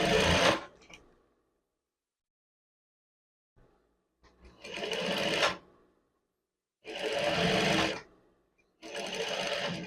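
A sewing machine stitches a seam on a men's chef's jacket in three bursts of steady running. After a brief opening burst comes a long pause, then two sustained runs of several seconds each, close and loud with no talking.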